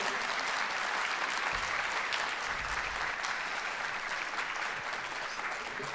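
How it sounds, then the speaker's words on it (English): Sustained audience applause at an evening history lecture, dense and steady for the whole stretch, loud and filling the room without a break. "Big round of applause, please."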